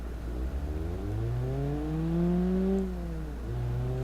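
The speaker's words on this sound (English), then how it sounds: "Just sounds like a normal 4-cylinder." A classic JDM four-cylinder car engine in BeamNG.drive revs smoothly from idle, climbing in pitch through a steady pull, then easing off and settling back to a higher idle; close and clear with no talk.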